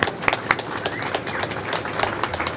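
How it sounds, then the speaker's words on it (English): Audience applause at a Times Square plaza ribbon-cutting in New York City, with scattered claps heard outdoors over a busy background, moderately loud and mixed with ambient noise. "they deserve a nice round of applause for all of us"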